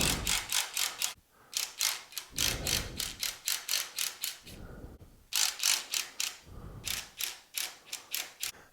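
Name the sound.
14 mm socket wrench spinning nuts off snow blower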